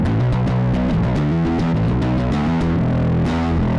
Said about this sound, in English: I'm already digging this distortion engine better than this one.